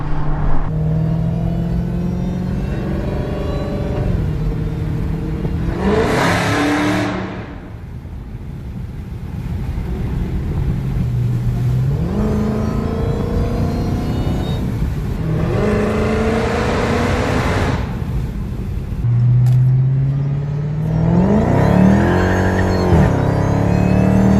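A Dodge Hellcat fitted with a JLT cold air intake revs repeatedly, its engine rising and falling in several loud bursts with a bright supercharger whine riding over a steady rumble, close and continuous with no talk.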